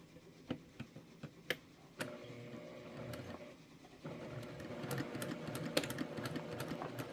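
A sewing machine stitching a quilt from corner to corner starts with a few sharp isolated ticks, then settles into a steady, fairly quiet mechanical whir that grows a little louder midway.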